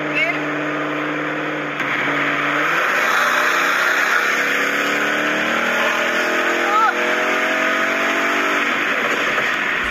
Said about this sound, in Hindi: मैंने भी गाड़ी डाली है स्पोर्ट्स मोड में, बस अभी सामने सीधी रोड का वेट कर रहा हूँ। जैसे सीधी रोड आई उसके बाद फुल एक्सेलरेटर।